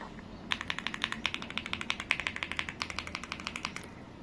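Typing on an AULA F75 gasket-mounted 75% mechanical keyboard with Leobog Reaper linear switches, a quick, even run of soft, close key clacks with no voices.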